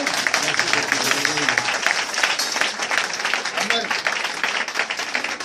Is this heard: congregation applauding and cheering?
yes